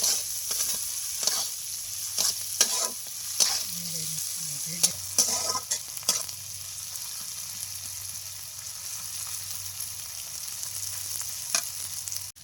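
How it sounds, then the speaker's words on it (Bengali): Continuous frying sizzle from a pan with bursts of spatula scraping and stirring, the hiss steady and close. "পেঁয়াজ কুচিটা দিয়ে দিই। পেঁয়াজটাকে একটু নেড়ে নিচ্ছি।"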